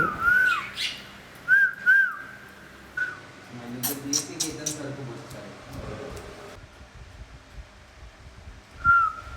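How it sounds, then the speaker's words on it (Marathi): Lovebirds give repeated shrill chirps and whistles in short bursts, with some indistinct background activity in between. "2nd फ्लोअरला आम्हाला लव बर्ड्सचा खूप आवाज येत होता"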